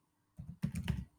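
A command is typed into a Linux terminal on a computer keyboard, a short close burst of clicking keystrokes after a brief silence.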